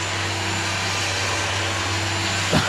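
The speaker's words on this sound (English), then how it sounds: "It's winch in action. Start it up." A 10,000 lb electric winch on a Jeep runs as a steady, whirring motor whine for the whole stretch, with a brief small knock near the end and no speech.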